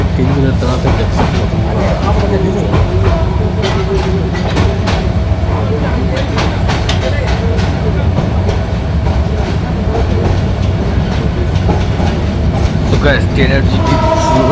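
A train running on the Dhaka to Chittagong line, heard from inside with a loud steady rumble and rhythmic clickety-clack of wheels, continuous and close throughout.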